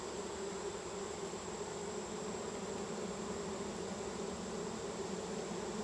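Honey bees drone in a steady, dense buzz as a queen is released into a hive split, a close, even hum that holds without break and has no voices over it.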